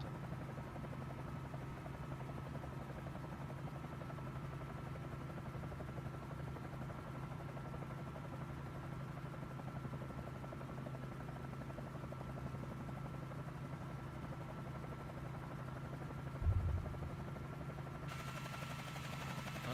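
A helicopter engine and rotor drone steadily and loudly throughout, with one brief thump near the end.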